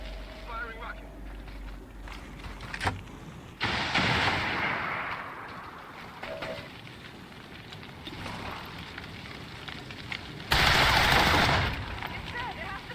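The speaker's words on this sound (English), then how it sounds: "Firing rocket." A rocket fired during a modded XCOM 2 battle, with bursts of loud broadband blast and rumble among gunfire-like crackles, the biggest near the end, while in-game voices talk over the action.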